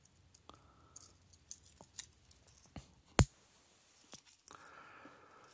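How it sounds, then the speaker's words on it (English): Small metal clicks and one sharp snap as the scissors blade is folded back into a Victorinox Classic pocket knife, scattered light ticks before and after the crisp closing click. "let me just fold the scissors back"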